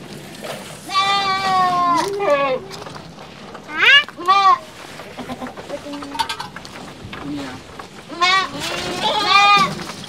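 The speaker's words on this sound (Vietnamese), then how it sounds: "Nhà có nuôi dê rễ nữa cả nhà." Goats bleating at a rural Vietnamese home, several wavering cries in bursts across the clip, some close and loud, with people talking quietly in the background between calls.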